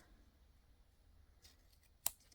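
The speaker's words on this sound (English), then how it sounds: "you're going to just go ahead and cut" A single crisp snip of scissors cutting around the edge of paper on a glue-bottle craft project, close and faint over a soft room hush.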